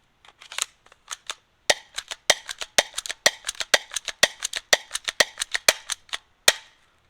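A Hikewintoy gel blaster fires gel rounds in a rapid series of sharp, snappy pops, sometimes clustered, sometimes spaced, close and loud with nothing else in the background.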